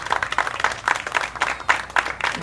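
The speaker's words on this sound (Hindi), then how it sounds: "तालियां बजाओ आराम से" Applause at a party scene in a Hindi TV comedy, with a crowd clapping in uneven bursts that rise and fall across the moment, moderately loud, with no clear talk over it.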